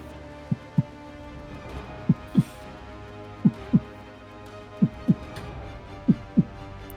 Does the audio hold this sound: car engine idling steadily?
no